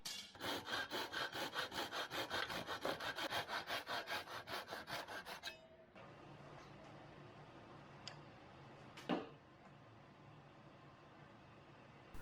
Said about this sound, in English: I cut these miters very carefully with this simple jig.